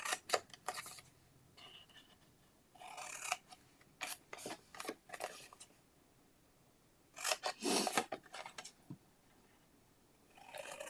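Scissors snip through paper or card for a fold-flat box, in short clustered bursts of crisp cutting with quiet pauses between, close and fairly soft, with no talking.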